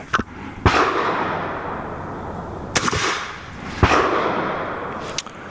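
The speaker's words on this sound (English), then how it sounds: "I'm gonna go ahead and run a regular 300 Blackout suppressor" Three sharp, fairly loud shots from a suppressed 300 Blackout bolt-action rifle, spaced a second or two apart, each a crisp crack with a short decaying tail over background hiss.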